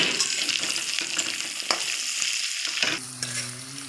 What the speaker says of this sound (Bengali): তো আলুটা হালকা ভাজা হয়ে গেছে